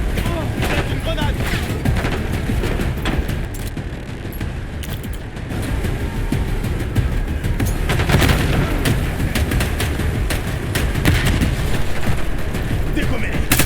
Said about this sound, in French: Une grenade!